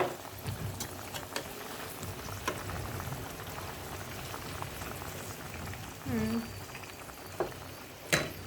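Chips frying in a pan give a dense, continuous sizzle, close and steady, with occasional clinks and a soft muffled voice briefly in the background.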